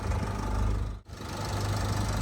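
A Renault Koleos 2.0 dCi diesel engine idles steadily with a low, rumbling hum that runs continuously, briefly dipping for a moment before resuming.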